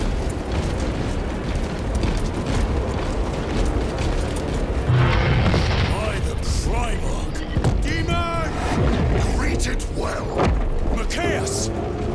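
Heavy booms and rumbling blasts fill a battle in the video game Space Marine 2, with loud, dense combat noise and shouting voices layered throughout.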